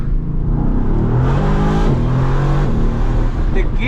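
A Mercedes-AMG GT R with a twin-turbo V8 and dual-clutch gearbox revs hard through the gears from inside the cabin, its loud engine note climbing and dropping at each quick shift, with a brief lull near the end.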